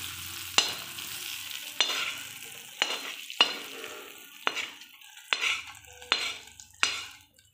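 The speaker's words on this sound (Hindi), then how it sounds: "ये देखिए तेल छोड़ दिया है पूरा और हम इसी में डालेंगे तड़के खिचड़ी में।" Hot oil tadka being stirred into cooked khichdi in a pot, giving a run of sharp sizzling bursts that recur about every second under steady spoon stirring and scraping, with no talk.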